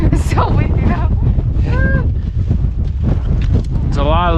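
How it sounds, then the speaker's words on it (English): Strong wind roars across a mountain pass and buffets the microphone in a constant, heavy rush, with people talking over it. "A little less windy. It's so windy now."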